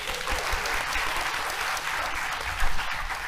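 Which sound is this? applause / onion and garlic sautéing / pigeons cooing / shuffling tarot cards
applause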